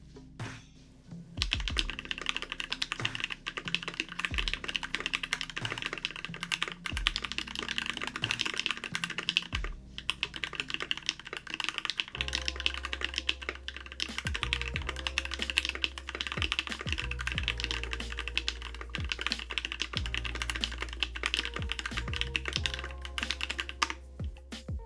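An ikki68 mechanical keyboard fitted with FLCMMK Ice Mint linear switches is typed on continuously for a long stretch, producing dense, rapid, clacky keystrokes with no talking.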